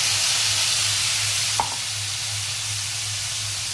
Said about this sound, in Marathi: चला आता पेस्ट टाकून घेऊया आलं लसूण.